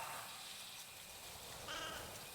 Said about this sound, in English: being able to call out to your grazing sheep and listening out for a distant reply